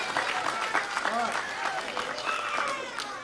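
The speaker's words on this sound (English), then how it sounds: "Let's round of applause for the implosion." Audience at a children's science show applauds with dense clapping and some cheering, while voices and squeals rise over the clapping.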